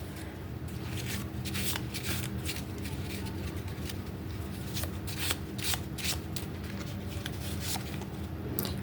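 Mini tarot cards are shuffled by hand in repeated quick riffling bursts, close and moderately soft, continuing steadily throughout with no one talking.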